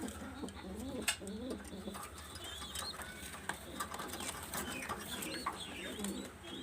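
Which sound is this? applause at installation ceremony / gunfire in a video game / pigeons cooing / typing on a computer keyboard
pigeons cooing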